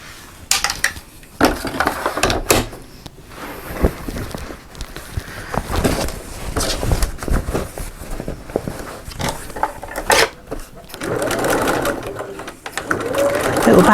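A sewing machine stitches a pocket seam in rapid whirring runs, close and fairly loud, broken by pauses, with someone talking over and between the bursts.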